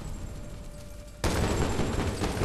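Shotgun blast in the video game Medal of Honor: Warfighter, a sudden loud, broadband crack that hits midway through a quiet stretch and leaves a dense, sustained roar after it.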